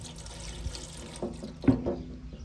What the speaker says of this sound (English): So we're just gonna keep on pouring this in here slowly